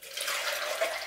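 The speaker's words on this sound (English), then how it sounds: "Now I'm going to add my distilled water." Distilled water pours for the final rinse in black-and-white film developing, a brief continuous hissing stream, close and steady with a slight surge near the end.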